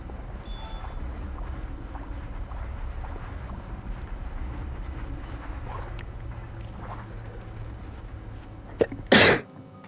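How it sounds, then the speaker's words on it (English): A single loud, sharp sneeze bursts out close to the microphone near the end, over quiet background game sound, with no speech around it. "I had a sneeze."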